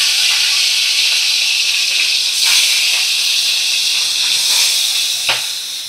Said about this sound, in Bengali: এইবার আমি নুন হলুদ মাখানো মাছগুলো তেলের মধ্যে দিয়ে দেব।